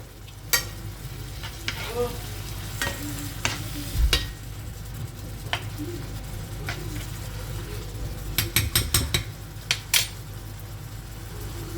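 Vegetables frying in a pan with salt, parsley, turmeric, pepper and curry: a steady close sizzle with scattered sharp clicks and scrapes of utensils against the pan, a quick cluster of taps near the end.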